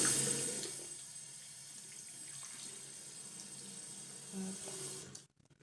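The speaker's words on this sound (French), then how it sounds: "je vais venir rincer le cheveu comme ceci." Running tap water rinsing curly hair in a sink: a steady hissing, splashing flow, louder at first and then settling, that stops abruptly near the end, close and with no talk.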